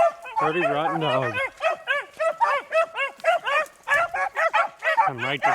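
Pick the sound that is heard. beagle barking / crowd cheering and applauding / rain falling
beagle barking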